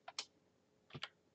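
Quiet, close typing on a computer keyboard, two quick pairs of light key clicks separated by a short pause.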